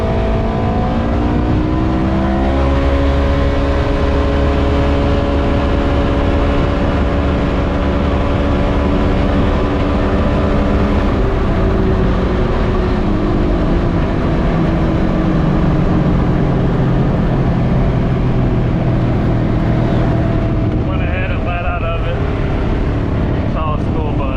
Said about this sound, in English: The Rzr 1000. This thing is rolling.